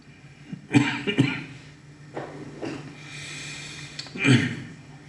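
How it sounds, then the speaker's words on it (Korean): A pastor coughs in a few harsh, close bursts during a quiet daily Bible-reading session, with breathy throat noises and brief pauses between the coughs. "여전히 저는 이 기침을 아직 이겨내지 못하고 있습니다"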